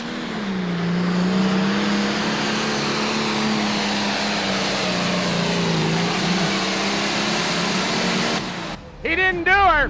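A pulling tractor called the Tinker Toy roars down the track at a Bowling Green truck and tractor pull, a loud, steady, sustained engine drone that cuts out abruptly near the end, followed by a brief burst of other noise.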